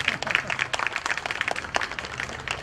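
Thin, scattered audience applause at a Gujarati literary talk: loose, uneven clapping that stays modest and never swells into a full ovation, with a voice or two mixed in.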